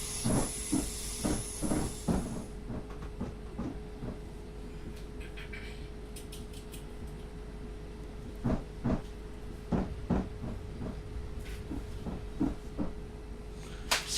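Class 455 electric train running on a South London line, a steady rolling hum with a constant tonal whine, a high hiss fading early, and repeated sharp clicks and clunks from the rails and carriage at an irregular rhythm.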